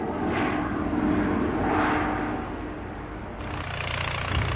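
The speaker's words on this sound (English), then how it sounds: "Or like this, the prop fan, designed to satisfy the demand for greater fuel economy and reduced noise footprints." A propfan aircraft engine gives a steady, close roar with a surging, droning whine that swells and fades slightly, continuous for several seconds and alone.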